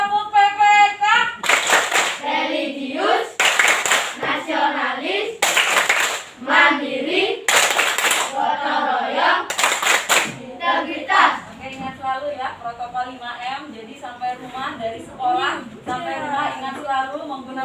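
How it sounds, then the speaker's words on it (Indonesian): Primary school class of sixth graders performing the tepuk PPK clapping routine, sharp rhythmic bursts of group hand claps alternating with children chanting in unison, loud and close in a classroom. "Oke, kita tepuk PPK dulu. Tepuk PPK."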